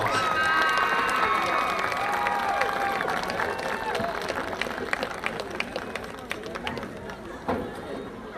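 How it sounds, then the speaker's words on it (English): A crowd applauds and cheers for the 2008 seniors on senior night at a high school football game between Bacon County and Atkinson County, a steady wash of clapping and scattered shouts that slowly thins, with chatter mixed in. "Let's give them a big round of applause."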